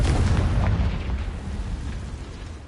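A Confringo blasting spell explodes in Hogwarts Legacy, a loud, close, deep boom that rumbles and slowly fades over nearly three seconds.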